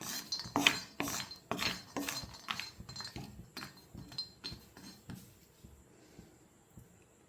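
Almonds are roasted in an iron pan until nearly charred, with a rapid series of metallic scrapes and clinks from stirring that gradually slows and fades, close by, with no voices.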